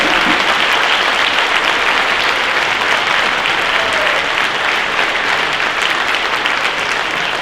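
A school audience at an elementary band concert for grades 4–5 applauds loudly, a dense, continuous wash of many hands clapping at once that holds steady throughout without pause.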